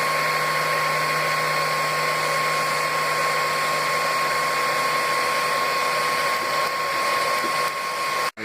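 A Freaks3D 3D printer prints PLA with a steady, close, continuous motor whine and fan hum, holding a constant pitch with no voices, cutting off abruptly at the end.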